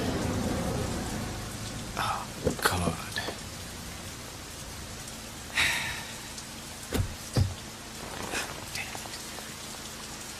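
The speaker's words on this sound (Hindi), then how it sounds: "I hate rain." Heavy monsoon rain pouring in Bombay, a steady dense hiss with scattered sharper splashes and knocks over a low background hum, while a voice briefly exclaims.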